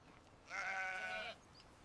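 A single goat bleats once in a wavering, nasal cry lasting under a second, moderately close against a faint hiss, with no talk.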